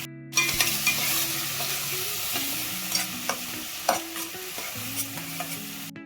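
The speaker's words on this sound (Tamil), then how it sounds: "அரைச்சி வச்சிருக்க வெங்காயம், பூண்டு, தக்காளி ஆட் பண்ணிக்கலாம்." Ground onion, garlic and tomato hit hot oil with curry leaves in a pan for sardine curry, giving a steady loud sizzle with repeated spoon scrapes and stirring knocks throughout.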